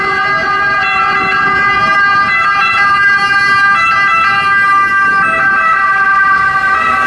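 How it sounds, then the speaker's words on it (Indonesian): A toy ambulance siren wails loudly and continuously in a steady electronic warble, with no other sounds around it. "Di sini ada mobil ambulan."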